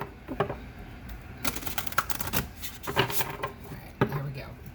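Cards riffle and slap in quick bursts, several brisk shuffles with short pauses between, close and crisp.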